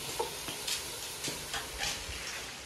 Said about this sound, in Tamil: இதில் மீன் பொரிக்கிறதுக்கு எண்ணெய் கொதிக்க வச்சுக்கிறாங்க.